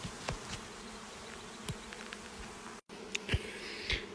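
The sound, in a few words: honeybees buzzing around a hive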